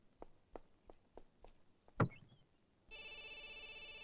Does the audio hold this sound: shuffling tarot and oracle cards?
no